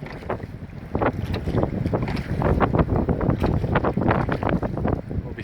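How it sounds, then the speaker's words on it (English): Strong wind buffets a small rowing dinghy on water in the Scottish Highlands, with loud, continuous rumbling gusts over the microphone and irregular knocks and splashes throughout. "I can see the wind is a strong wind and a bit of a current."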